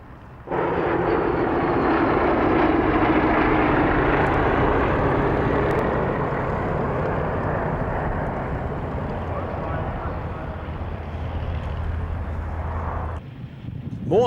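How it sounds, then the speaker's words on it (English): Bristol Mercury radial engines of a Blenheim and Gladiator at the 1996 Duxford airshow give a sustained, smooth propeller roar that swells early then slowly fades, with wind buffeting the microphone. "Next comes the smooth sound of three Bristol Mercury engines in the Blenheim and Gladiator."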